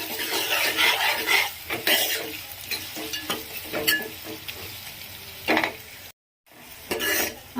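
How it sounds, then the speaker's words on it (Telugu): Onions fry with turmeric in a pan for a goat head curry, crackling and sizzling under repeated close spoon scrapes and clinks against the pan. A brief dropout of total silence comes near the end, and nobody talks. "ఆనియన్ ఫ్రై అయ్యేటప్పుడే కొంచెం పసుపుని యాడ్ చేస్తున్నాను."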